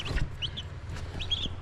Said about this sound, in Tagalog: Mga napisa na sisiw guys.